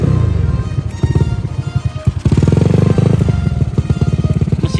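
A Yamaha Mio Smile scooter with a rebuilt 150 cc engine and a PWK 28 carburetor cranks and starts, then idles with a loud, rapid, pulsing putter close by.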